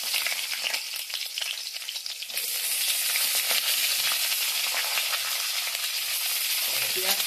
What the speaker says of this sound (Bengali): তেলটা গরম হলে পেঁয়াজ আর ক্যাপসিকামগুলো দিয়ে দেবে